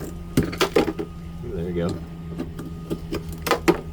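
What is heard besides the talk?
wrench working a corroded Mercury power steering line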